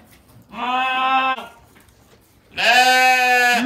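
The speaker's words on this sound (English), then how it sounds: "We just got a brand new baby goat" A newborn baby goat gives two loud, close bleats, each about a second long, with a quiet pause between them.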